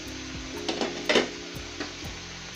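Spice masala for egg korma is stirred and fried in a pan: a soft, constant sizzle with a few scraping spatula strokes that swell briefly, over a faint steady hum, near and moderate in level.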